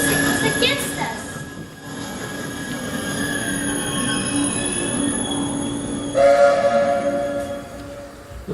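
Stage-play train effect for a theatre performance of The Wind in the Willows: steady rumbling rolling of railway carriages with squealing wheels throughout, swelling louder near the end, no talk over it.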